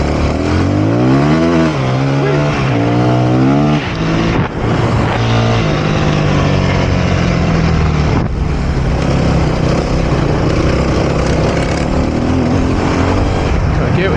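A dirt bike engine revs hard while being ridden, loud and close, with rapid up-and-down throttle swells early on, then a steadier high drone broken by short gear-change dips.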